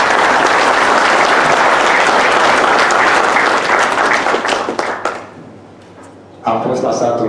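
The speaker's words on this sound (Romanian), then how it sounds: "Și vă rog să-i aplaudați." Loud applause fills a hall at a regional football association's general assembly in Arad, sustained clapping that fades off, drops to a quiet murmur, then a voice returns over the room.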